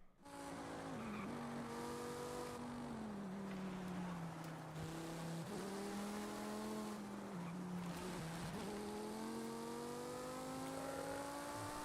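Video game race car engine during a three-lap race, loud and continuous, its pitch sliding down and climbing again through gear shifts with a little tyre noise, no talking.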